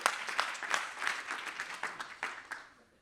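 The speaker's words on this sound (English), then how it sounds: "give yourself a round of applause" A short, moderate round of applause from a conference audience at an annual general meeting, individual claps distinct and fading out over a few seconds.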